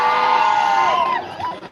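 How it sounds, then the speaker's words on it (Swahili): A crowd at a political launch of Ogembo Municipality in Kenya responds loudly and close, with sustained high cheering voices that hold steady, then dip and trail off near the end. "Wapi makofi yake?"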